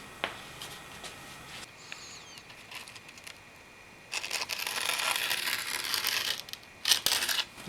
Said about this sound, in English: And just cut through the grip tape.